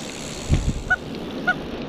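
Squeeze horn on a mountain bike, honking twice in short nasal bursts a little apart, after a couple of low thumps, with a steady background hiss and no talking.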